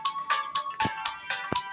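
A phone ringtone plays a bright repeating electronic melody in short pulsing notes, clear and alone, with no voices.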